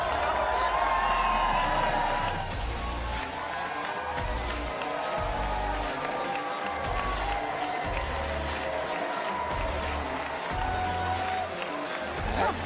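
A large conference crowd at a political event cheers and applauds loudly and continuously, a dense wash of clapping and shouting with a few voices rising above it throughout.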